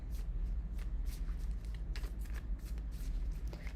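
Tarot cards are shuffled by hand in quick, repeated riffling bursts of crisp slaps and flutters, close and moderately loud, with no talk over them.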